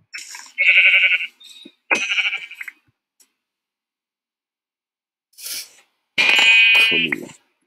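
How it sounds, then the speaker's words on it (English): Several high, wavering sheep bleats from a Minecraft video game, including a baby sheep, come in short bursts separated by silent gaps, fairly loud and close with no talking over them. "I'll let the baby sheep live."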